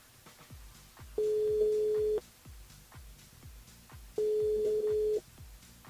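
A telephone ringing tone on a call placed from a radio show's phone line: two steady one-second tone bursts separated by about two seconds of quieter background.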